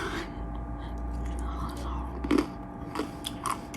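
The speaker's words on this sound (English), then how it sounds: "So I'm licking the bowl." Someone licking no-bake chocolate cookie mixture with peanut butter from a mixing bowl: close, soft wet mouth smacks and a few crunchy bites over a low hum, with brief whispery breaths.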